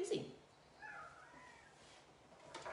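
A cat meows at a window, a couple of faint drawn-out cries heard indoors at a distance while people talk nearby.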